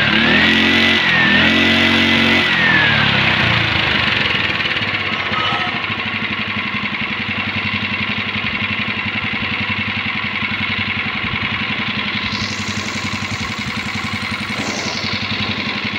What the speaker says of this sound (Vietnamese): rồi bây giờ test máy nổ cho bà con tham khảo luôn